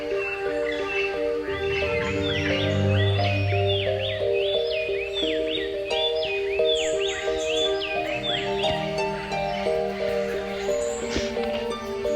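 Bird calls from a jungle bird video game: repeated chirps and tweets ring out over steady, layered game music, moderately loud and continuous throughout.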